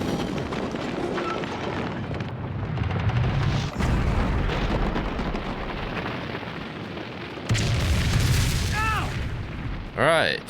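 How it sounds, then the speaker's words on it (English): An oil derrick blows up in Alan Wake's American Nightmare with deep, rumbling booms. A sustained roar swells and drops off, then another heavy blast hits, followed by ringing, warbling tones, while a voice talks over the noise. "Fire is probably gonna make the whole place explode."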